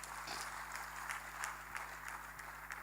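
A church congregation claps for Jesus during a worship service, with faint, distant applause forming a soft, uneven patter of hand claps over a low background hum.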